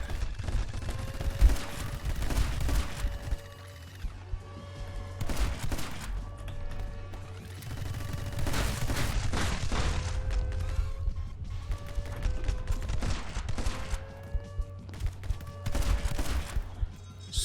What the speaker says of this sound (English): You're shooting through your fucking teammates!